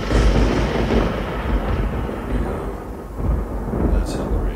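Thunderstorm sound effect with continuous low rumbling thunder and steady broadband noise of storm and rain, loud and unbroken for several seconds, with a brief brighter crackle near the end.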